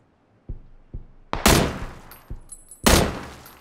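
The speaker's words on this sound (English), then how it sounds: "I'm just putting some rounds in these windows" Gunfire in PlayerUnknown's Battlegrounds: rounds shot into building windows, a string of sharp, loud reports with two heavier blasts, spaced irregularly over a few seconds with no talk.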